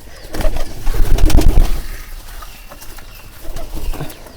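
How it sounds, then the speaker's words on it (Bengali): Pigeons coo close by in low, throaty bursts, with some fluttering and shuffling, strongest early on and then quieter. "এই কবুতরগুলো খাবারের জন্য ওয়েট করে"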